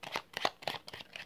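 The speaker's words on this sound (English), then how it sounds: "we have to shuffle these two" Cards shuffled by hand during a board game, a quick run of soft riffling flutters in short rhythmic bursts, close and fairly quiet.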